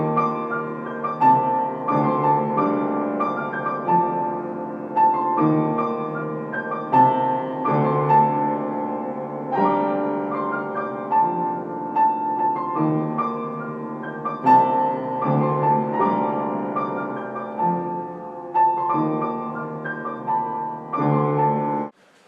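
Guitar part played together with a repeating octave bass line, the plucked notes and chords forming a steady looping pattern for over twenty seconds with no talking.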